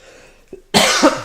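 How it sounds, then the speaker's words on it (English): A single harsh, close cough bursts out after a faint throat sound, loud and rough against near silence. "Sorry for the coughing."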